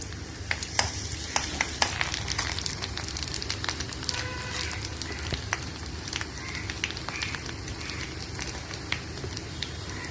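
Garlic and ginger frying in a pan for a capsicum bhaji, a steady crackling sizzle running throughout with scattered sharp pops and spits, fairly close, with no talking over it.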